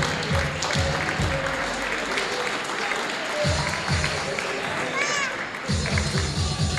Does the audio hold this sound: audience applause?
yes